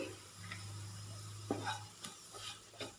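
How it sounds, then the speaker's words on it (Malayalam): Masala spices with garam masala powder sauté in a pan for a chicken roast, giving a soft continuous sizzle and a steady low hum broken by a few faint stirring scrapes and taps, close by with no talking. "നന്നായിട്ട് വഴറ്റി കൊടുക്കാം"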